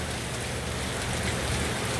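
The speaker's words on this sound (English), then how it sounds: "It sounds like it's raining." Rain falls steadily during Hurricane Dorian in Orlando, a dense continuous hiss of drops on surfaces, close and unbroken, with no one talking over it.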